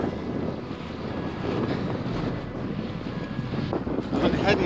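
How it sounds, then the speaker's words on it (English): Strong wind buffets a cyclist on a long-distance audax ride in County Louth, Ireland, a steady low roar of microphone rumble and gusts that swells louder near the end. "the wind is right in my face"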